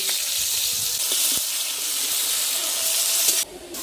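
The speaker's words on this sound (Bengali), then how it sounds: "ওই বেঁচে থাকা তেলে আমি দিয়ে দেবো 2টো তেজপাতা, 2টো কাঁচা লঙ্কা আর কিছুটা গোটা গরম মশলা, কেটে রাখা পেঁয়াজ।" Bay leaves, green chillies, whole garam masala and chopped onion fry in leftover oil, a steady close sizzle and hiss with a few faint clinks, dropping slightly quieter near the end.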